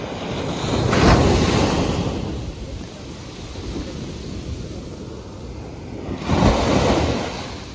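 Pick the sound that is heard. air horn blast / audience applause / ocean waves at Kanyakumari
ocean waves at Kanyakumari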